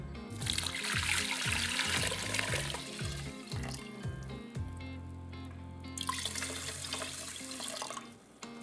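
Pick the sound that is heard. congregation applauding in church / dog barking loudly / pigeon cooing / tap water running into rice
tap water running into rice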